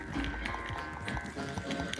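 Horse galloping during a race in Red Dead Redemption 2, a steady run of hoofbeats with a whinny-like tone over a continuous game soundscape, no voices.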